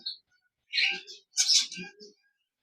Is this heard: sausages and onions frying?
no